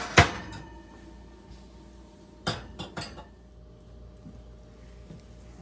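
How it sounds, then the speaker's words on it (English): Hot glass canning jars handled after coming out of the oven, a sharp clink at the start followed by a couple of lighter knocks and taps a few seconds later, against a quiet kitchen background. "I've got one of our hot jars out of the oven here."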